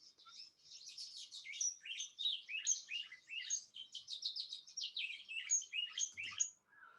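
A violet-green swallow calls in a quick, continuous run of high, thin twittering chirps, clear and isolated against silence.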